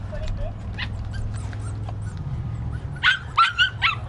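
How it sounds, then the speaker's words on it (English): A stray dog on a reservation street whimpers in thin, high cries, then lets out a quick burst of several sharp yips and barks near the end over a low rumbling background. "There's a stray dog right over there."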